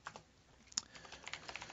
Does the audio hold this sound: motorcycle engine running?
no